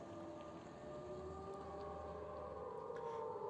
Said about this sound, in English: We can still hear the air raid sirens going off throughout the day.